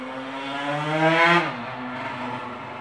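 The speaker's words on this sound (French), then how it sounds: "Merci au moteur qui vient de passer." A motor vehicle engine drones past nearby, its steady hum rising to a peak and then dropping in pitch as it moves away.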